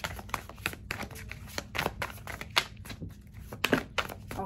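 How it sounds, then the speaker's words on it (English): Tarot cards are shuffled by hand in quick, crisp bursts of riffling and slapping, close and fairly quiet, with no talking. "I'm just shuffling a little bit more. I feel like I need to shuffle."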